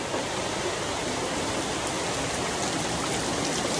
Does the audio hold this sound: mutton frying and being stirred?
no